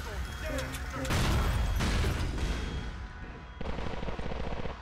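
Weapon fire in GTA Episodes from Liberty City, loud dense bursts of automatic gunfire and booming shots rattling in rapid succession, with a voice talking over part of it.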